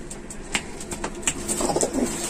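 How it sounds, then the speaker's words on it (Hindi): Pigeons coo close by in low, throaty burbles, with light rustling and shuffling between the calls. "सारे कबूतर एक्टिव हैं"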